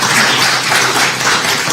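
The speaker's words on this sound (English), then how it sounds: "let's all have another round of applause for Elizabeth Findley Shores" An audience at a family history talk on an antique coverlet applauds the speaker, a dense, steady wash of many hands clapping at once, loud and continuous.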